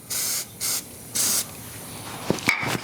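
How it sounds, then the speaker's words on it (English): Super glue activator is sprayed onto a wooden tenon and recess at the lathe in three short hissing bursts. Faint handling knocks follow. "I'm going to spray the activator"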